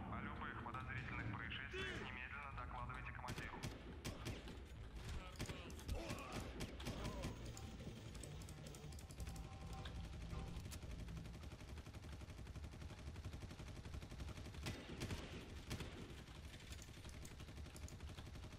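Gunfire in the video game Far Cry aboard a ship, with rapid bursts of machine-gun fire in dense clusters alongside engine and aircraft noise, and people talking over the shooting.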